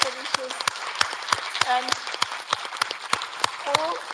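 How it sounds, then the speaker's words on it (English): An audience at a panel session on citizen-generated data gives the panelists scattered, light applause, while a voice speaks over the claps. "I think the panelists deserve a big round of applause because they raised so many important issues"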